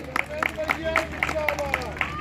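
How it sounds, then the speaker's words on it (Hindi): An audience claps at the opening of the Nohta Mahotsav festival, a dense patter of hands under an amplified announcer's voice calling out over a public address system. "ऐसे धर्मेंद्र भैया के लिए एक बार फिर से जोरदार ताली"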